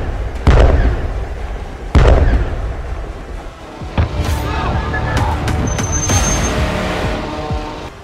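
Blasts from Iranian missiles striking Israel, with two sharp, heavy booms early on followed by a rumbling, crackling stretch of further distant impacts and a faint high whine, all loud and dense with no speech.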